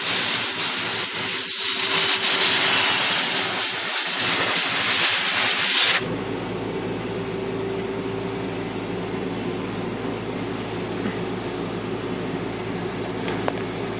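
A loud hissing blast of compressed air cleans a Royal typewriter for about six seconds, then stops, leaving quieter background hum and faint mechanical noise.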